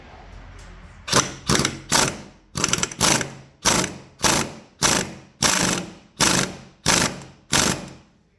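A ratchet tightens the clutch hub nut on a 1961 Harley-Davidson FL Panhead in about a dozen evenly spaced, rasping clicking strokes, close and clear with no talking.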